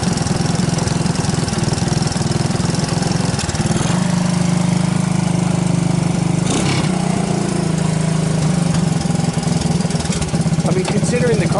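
A 1985 Honda ATC 200S three-wheeler ATV, rescued with an unrebuilt carburetor, runs loud and close with a steady, slightly knocking single-cylinder idle that holds throughout, briefly dipping in pitch midway.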